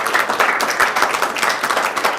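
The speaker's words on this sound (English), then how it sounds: "all of us here today owe a big round of applause to our panel of judges" An audience at the 2018 A-Team Challenge Finals claps for the panel of judges, dense sustained applause with many hands close and steady throughout, no voices over it.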